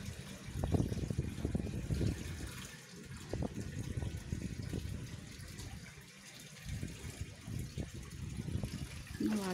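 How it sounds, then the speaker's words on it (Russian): Water runs steadily from a spring tap at an outdoor market in Betlitsa, a constant close gush with murmuring voices and movement around it. "И вот так вот всегда бежит водичка"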